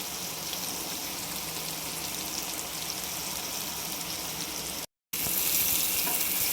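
Fish and pomfret fry sizzling in a pan, a steady close crackling hiss throughout, with a brief gap near the end before the sizzle returns brighter.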